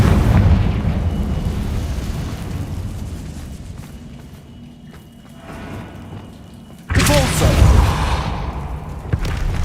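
A Confringo spell blast in the Hogwarts Legacy game lands as a sudden loud burst partway through, a booming explosion with a rushing tail, after a quieter stretch of low rumbling ambience.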